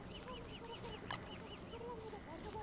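Turkey gobbler in the video game Don't Starve, a repeated run of quick clucking gobble calls in a steady rhythm, soft under game background sounds with one sharp click midway.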